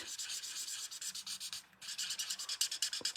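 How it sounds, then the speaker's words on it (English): A Daffodil Delight marker running dry as it colors, giving a dry, scratchy rubbing sound in quick repeated strokes, close up, with a brief pause partway through. "You can tell by the noise that I need a new Daffodil Delight"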